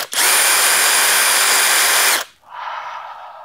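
Kobalt XTR impact driver running: a loud, close, steady high-pitched motor whine for about two seconds, then a brief drop and a quieter, softer whir as it spins down.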